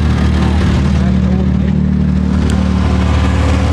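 A vehicle engine labors in high gear to pull over a shed that high winds blew down, a loud, steady, close drone with a low throbbing rumble that holds throughout.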